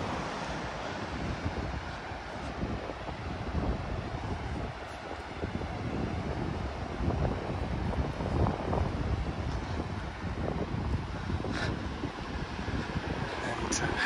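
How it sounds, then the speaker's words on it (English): Ocean waves wash continuously onto the shore near Lagoa and Ponta Delgada in the Azores, a broad steady roar of surf mixed with wind buffeting the microphone. "I can hear the waves here, that's true."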